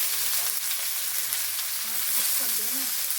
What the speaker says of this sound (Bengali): এইভাবে নেড়ে চেড়ে তেলের সঙ্গে পেঁয়াজ রসুনটা একটু নরম করে নেবে